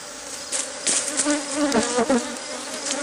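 A busy drone of honeybees buzzing close by at an aggressive hive being requeened, steady and layered, with individual bees rising and fading as they pass.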